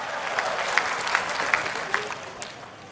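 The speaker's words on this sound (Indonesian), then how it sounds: "Tepuk tangan buat Indonesia." Crowd applause at an Indonesian comedy roast event, a steady wash of many hands clapping at moderate loudness with a few sharper individual claps standing out, no talk over it.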